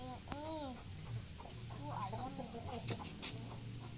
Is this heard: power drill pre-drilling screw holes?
no